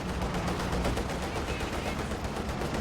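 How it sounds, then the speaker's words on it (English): Gunfire from a Panzer IV tank in a war video game, a steady dense barrage of shots and impacts mixed with battle noise, moderately loud throughout, with a voice talking faintly underneath. "Panzer IV returning fire."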